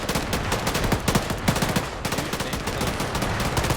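Sustained automatic gunfire lays down suppressing fire in a Ukrainian ground infantry shooter game, a loud, rapid, steady stream of close shots with no talk.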